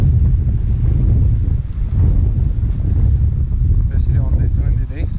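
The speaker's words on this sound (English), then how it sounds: "On this windy day." Strong wind on a rocky fishing shore at Khasab, Oman, roars and buffets the microphone in a loud, steady rumble, with surf washing faintly beneath.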